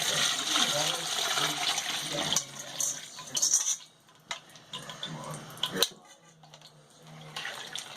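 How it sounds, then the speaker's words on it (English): Peruvian-style pot roast being stirred in a pot, with wet sloshing, bubbling and clinks of a utensil against the pot, loud at first, then quieter and intermittent, with a voice briefly speaking. "Stir it around."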